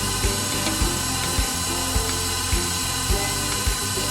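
An electric mixer runs at high speed through rum cake batter, a continuous close whir broken by regular knocking thumps about twice a second as the beaters strike the bowl.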